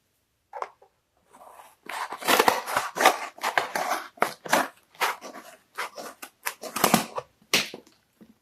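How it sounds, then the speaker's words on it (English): Scissors cut through a milk-carton-style box in a kitchen, with a quick run of crisp, irregular snips and crunching cardboard cuts, close and clear, with no talking. "So I'm going to cut it with the scissors."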